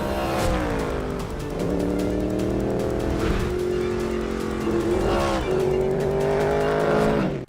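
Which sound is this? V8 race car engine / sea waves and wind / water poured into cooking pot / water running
V8 race car engine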